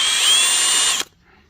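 Compressed air blasts leftover RTV gasket maker out of the holes of a K-series engine timing cover: a loud, close, steady hiss that cuts off sharply after about a second.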